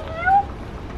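A single short meow from a cat, heard during a day at a zoo in Italy, rises briefly over a steady background hum.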